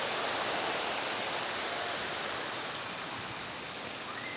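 River water rushing steadily near Salipit Falls on the Kaytitinga River in Alfonso, Cavite, a dense, continuous hiss of flowing water heard close and loud with no voices.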